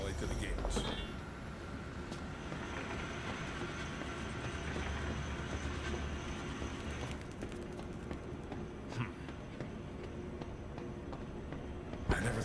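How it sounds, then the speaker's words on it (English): A gadget trolley in the Zoochosis video game rolls along rails with a steady rumbling clatter and occasional clanks, continuous and fairly loud throughout, with a voice speaking over it. "Now drag the trolley to the gates."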